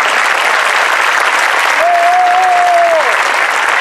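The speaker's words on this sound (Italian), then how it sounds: "Questo è un applauso a Cure to Children." A crowd at the Miss Toscana beauty pageant claps loudly and steadily throughout, dense sustained applause with a brief whistle-like tone over it near the middle.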